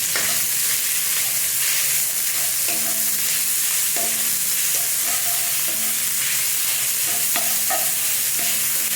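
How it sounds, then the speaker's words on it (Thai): Minced pork stir-frying in a pan for a Thai omelette: a constant loud sizzle and hiss, with a spatula scraping and clinking against the pan now and then, close up and with no talking. "ใส่หมูลงไปผัดให้สุกก่อนนะทุกคน"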